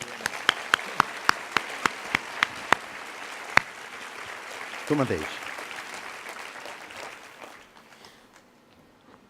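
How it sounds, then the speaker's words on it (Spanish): A live audience applauds at a mediumship event with a guest introduced on stage, sharp individual claps starting the stretch before a steadier crowd clapping that fades away, with a brief voice speaking over it. "aplauso para ella."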